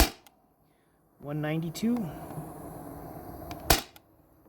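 Sabre 68 HDL paintball marker running on an 800 psi HPA tank with leaks: one loud, sharp, close shot near the end, after a brief spoken remark and a faint earlier pop.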